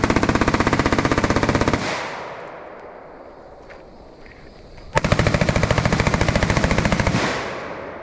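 Machine guns fire in long sustained bursts at an outdoor burn down shooting event, loud and close, with a pause and quieter echoing shots between two rapid strings.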